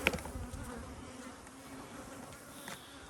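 Bees buzz around a hive box at a cow pasture apiary, a faint, steady drone near the microphone, with a brief sharper buzz at the very start.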